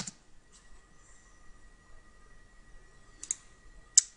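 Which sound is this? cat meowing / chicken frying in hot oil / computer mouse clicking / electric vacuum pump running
computer mouse clicking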